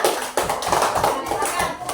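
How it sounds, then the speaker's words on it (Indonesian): Classroom applause for a student group during a coding lesson, several children clapping in an uneven burst of taps that fills the moment, close and fairly loud, with faint voices mixed in. "tepuk tangan untuk kelompok 2"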